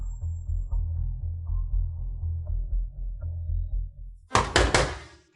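Three or four loud, sharp knocks strike a door in quick succession near the end, after a stretch of low, dramatic background music.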